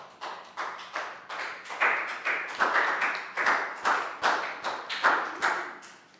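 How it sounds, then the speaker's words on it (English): A class of young pupils claps for a classmate in a primary school lesson, a ragged series of short bursts of hand claps repeating every half second or so, close and moderately loud, with no talking over it. "Big round of applause for Net."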